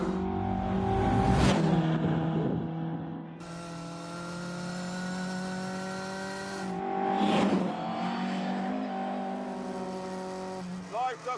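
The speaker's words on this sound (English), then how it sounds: "Cadwell Park, sunny day, Mark 1 Lotus Cortina. This thing is a riot." A Mark 1 Lotus Cortina racing at Cadwell Park in a video game, its engine droning steadily as it revs up and shifts, with bursts of tire squeal and a shift in tone partway through.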